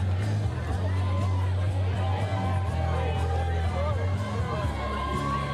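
A high school baseball crowd cheers and chatters steadily through the stands at Arcadia's home game against Crescenta Valley. The noise is distant and continuous under a steady low hum, with occasional whoops and voices mixed in.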